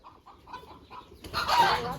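Chickens cluck in a short run of soft calls, followed by a louder burst of rustling noise.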